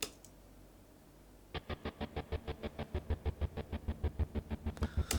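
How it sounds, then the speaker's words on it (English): A buzzy, distorted-guitar-like picking synth line for the Joker theme enters after a quiet start as a steady run of rapid, evenly spaced plucked notes, loud and close, with a brief noisy burst at the end. "Now there's the buzzy picking, and this is sort of like, I'll just give you how it sounds first"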